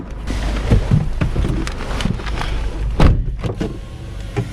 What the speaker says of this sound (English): Windows work, good start.